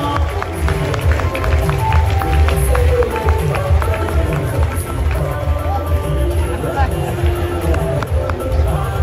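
An audience in a Kinshasa hall applauds for the President of the DR Congo, a dense steady patter of many hands clapping along with crowd murmur throughout.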